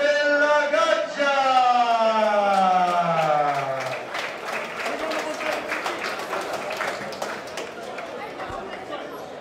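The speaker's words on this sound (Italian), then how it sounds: "Accogliamo con un grande applauso" At a fight-night ring event, an announcer's drawn-out voice introducing a fighter gives way to steady audience applause and cheering that fills the hall, moderately loud and continuous to the end.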